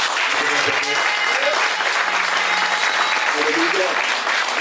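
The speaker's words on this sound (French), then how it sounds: "est-ce qu'on peut acclamer très fort pour Laurie, s'il vous plaît?" A church congregation applauds for Laurie, a steady dense wash of clapping from many hands that holds evenly throughout, with voices faintly cheering under it.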